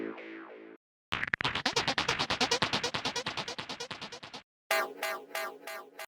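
Psytrance synth effects come in separate bursts: a short sweeping tone, then a long fast pulsing sequence of rapid plucky notes that thins out toward its end, followed by a chopped, gated synth pattern.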